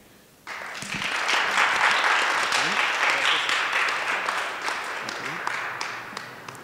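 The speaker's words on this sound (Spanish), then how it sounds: "Les pido un fuerte aplauso." Audience at an academic humanities lecture bursts into applause, a sudden dense round of clapping that starts abruptly and holds strong for several seconds before tapering slightly, with faint voices underneath.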